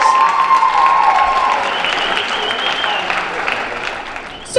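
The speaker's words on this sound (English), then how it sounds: "One more round of applause for the jazz band and Olivia Sage." An audience at a high school band concert applauds the jazz band, a loud wash of clapping that gradually thins out, with a few cheers at the start and a voice coming in at the very end.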